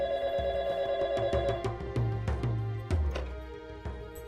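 A telephone rings again indoors, its repeating tone partly buried under thumps and a musical background, fairly quiet.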